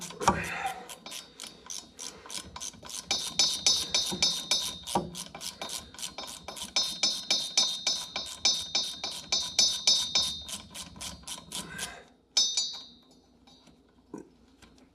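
A hand ratchet clicks in quick steady bursts while backing out the drive shaft bolts on a late-1980s Jeep Wrangler, close and crisp, with short pauses between strokes and a few metallic knocks near the end.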